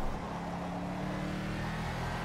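A Mercedes GT3 race car in the Project Cars game, lapping the Nordschleife with a steady, moderately loud engine drone and a faint whine that holds throughout.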